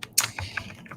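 Quick keystrokes on a computer keyboard while entering text in a design app, a short burst of several clicks at close range with no voices.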